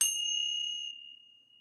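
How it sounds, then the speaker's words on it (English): A ceremonial ritual bell struck once at the start of a moon block divination rite, a bright ding with a clear high ringing tone that sustains and slowly fades, alone. "some form of ringing of a ceremonial bell in the beginning of a ritual to, in effect, greet the gods"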